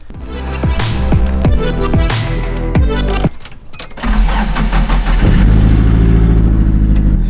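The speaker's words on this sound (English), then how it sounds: "Somehow this car always starts up first try," A Nissan 240SX cranks in a quick run of starter pulses, stalls briefly, then catches and settles into a loud, steady idle close by.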